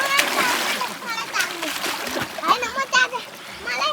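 Water splashes repeatedly as people bathe in a small stream during hot weather. The splashes are close and irregular, and voices, including a child's, talk over them.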